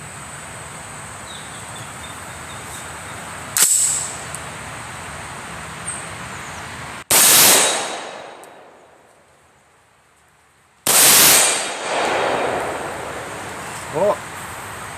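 300 Blackout rifle firing at an outdoor shooting range, three loud sharp gunshots spaced several seconds apart, each followed by a long decaying echo, with quieter ambient noise between.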